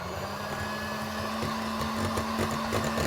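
An electric mixer whirs steadily as it blends chocolate Basque cheesecake batter in a kitchen, a continuous close motor drone with faint scraping in the bowl.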